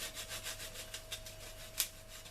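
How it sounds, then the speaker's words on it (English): Orange rind being grated in a kitchen, a soft, rhythmic rasping of quick repeated strokes close by, with one sharper scrape near the end. "Let's get the rind next and grate some of that on."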